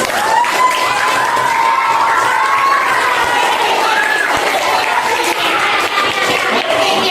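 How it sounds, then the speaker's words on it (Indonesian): A classroom audience applauds group 4 after its presentation, with dense, steady clapping that goes on for several seconds, mixed with some cheering and crowd noise. A voice rises faintly through the applause. "Iya, beri aplaus buat kelompok 4."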